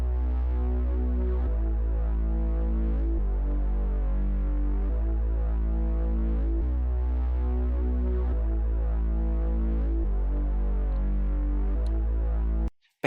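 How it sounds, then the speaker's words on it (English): Synth bass line layered with a low sine sub bass from the 3x Osc plugin in FL Studio, a steady droning low-end pattern that shifts notes every couple of seconds, loud and alone with no voices. "together the bass line and the sub sound like this"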